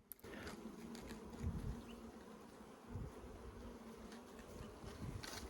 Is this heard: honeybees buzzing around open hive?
yes